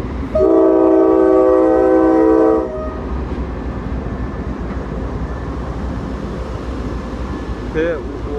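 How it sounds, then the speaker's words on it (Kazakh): A train with Russian-built wagons rolls past, a loud horn blast sounding for about two seconds before giving way to a steady, continuous rumble of the passing cars, with a voice talking nearby. "Міне вагондары көрініп тұр маған."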